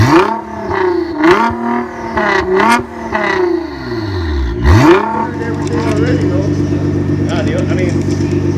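A Nissan GT-R with catalytic downpipe, 90mm exhaust and an electronic dump gives a few sharp revs that rise and fall, then settles into a loud, steady rumble close by while someone talks over it.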